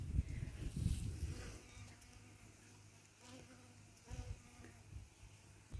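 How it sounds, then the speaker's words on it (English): Bees buzz around a flowering garden plant in a backyard, a soft, continuous hum that swells louder as one passes close early on and then drifts on more faintly. "Oh, here comes the bees."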